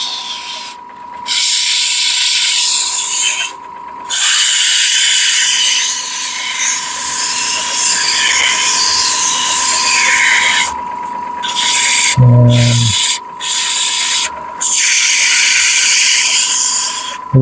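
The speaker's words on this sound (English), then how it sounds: "Give it some nice quick sanding." Continuous rough abrasive rasping of sandpaper against wood spinning in reverse on a lathe, loud and close, steady for most of the clip with a few brief pauses.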